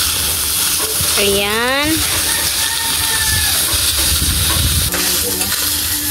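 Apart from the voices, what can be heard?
stirring chicken pastil in a frying pan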